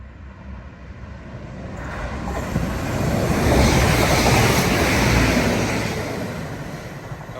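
A Leeds to Chester train rumbles into a station from a distance, growing louder to a broad roar in the middle, then easing off as it slows.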